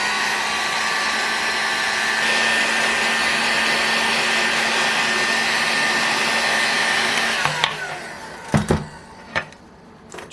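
A heat gun blows a steady, loud whooshing hiss while warming a motorcycle engine crankcase in a workshop, then cuts off, followed by a few sharp clunks and knocks.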